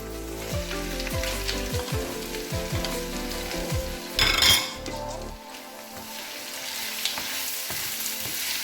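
Green and red bell peppers sizzle and fry steadily in a pan for paella, with a spoon scraping and clinking against the metal as they are stirred, close up.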